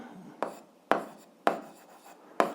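Writing out a math solution: four sharp, evenly spaced scratchy strokes, each a quick attack that fades off, in a quiet room with no talking.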